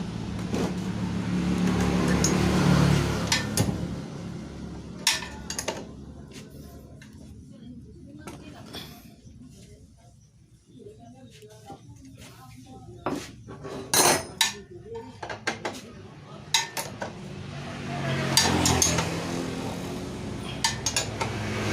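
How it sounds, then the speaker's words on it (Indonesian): A motorcycle rear wheel axle nut being tightened with a wrench, giving clustered metallic clicks and ratchety clanks that come in bursts, loud and close, with a quieter pause partway through. "Ini belum kencang maksimal untuk murnya, saya kencangkan terlebih dahulu."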